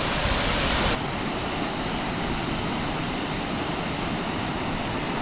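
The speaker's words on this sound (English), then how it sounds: "Man, this waterfall's loud. This is the lower portion of Ruby Falls." Loud waterfall at the lower portion of Ruby Falls in winter snow, a dense, steady roar of rushing water filling the whole clip, close and unbroken with no talk.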